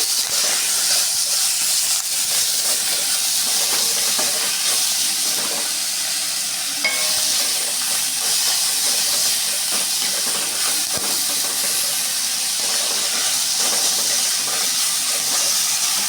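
Ridge gourd sautés with curry leaves in a pan, a loud, continuous hissing sizzle like steam, steady throughout with no talk.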